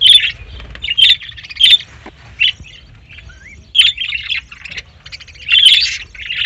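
Pet birds in a breeding colony chirp and squawk in sharp, bright bursts, several loud and near, separated by short quiet gaps.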